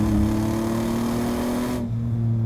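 Inside a modified Toyota RAV4 with an upgraded intake and close to 300 horsepower, the engine hums as a steady, loud drone while the vehicle accelerates uphill.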